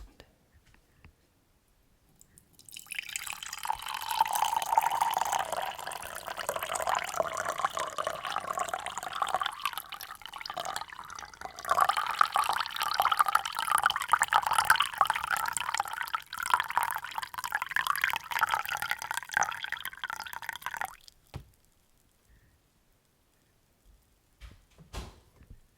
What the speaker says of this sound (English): this is a real tea sound. Don't think otherwise, it is tea.